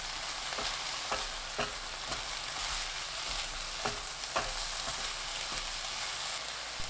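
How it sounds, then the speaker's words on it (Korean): Cabbage stir-fries in a hot pan with Cheongyang chili peppers and chili powder, a steady close sizzle broken by scattered scraping stirs and clinks, with no talking. "청양고추, 고춧가루 1큰술 넣고 30초 볶아주세요."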